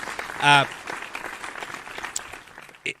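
A small group claps during a casual evening podcast chat, a thin, scattered round of applause. A short vocal whoop rises near the start and a brief sharp sound comes at the end.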